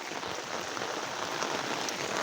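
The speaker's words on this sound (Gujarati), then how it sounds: "કારણ કે વરસાદ જોરદાર થઈ ગયો છે બરોબર." Heavy monsoon rain pours down in a village in Gujarat, a dense and steady patter on surfaces throughout with no voices.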